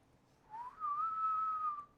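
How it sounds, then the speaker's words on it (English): An eerie, thin whistle or piping tone drifts on the wind: one sustained note that slides upward, then holds steady for over a second before fading, heard alone over a faint background. "An eerie whistling or piping sound can be heard blowing on the wind."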